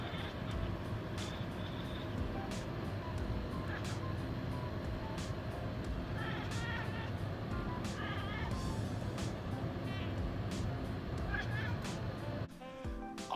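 A pet cat meows a few times, faint and brief, over a constant wash of background noise during a short break in a gaming chat show.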